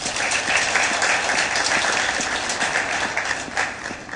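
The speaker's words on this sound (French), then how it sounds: "je demande à la salle de vous applaudir encore." Sustained audience applause at a press freedom event in Martinique, dense and steady clapping from a large crowd filling the room, with no voices over it.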